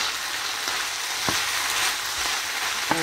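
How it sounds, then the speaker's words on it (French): Frozen green beans frying in a pan, a steady close hiss and crackle of sizzling with a few light stirring knocks, alone without talk. "je vais aussi faire frire mon haricot vert"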